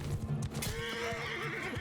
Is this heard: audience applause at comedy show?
no